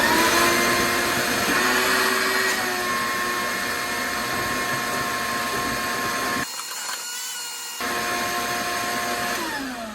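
A Shop-Vac vacuum cleaner runs steadily and loudly with a dense whine and airflow roar, briefly dipping in tone for about a second midway before returning to full power; no talking.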